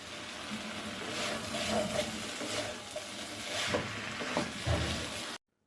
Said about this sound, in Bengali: এবার আমরা ভেজে রাখা মাছগুলো দিয়ে দিব।